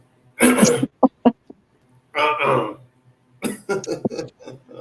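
A person clears their throat with a couple of short, harsh rasps between stretches of nearby talking.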